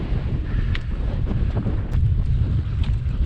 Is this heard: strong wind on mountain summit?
yes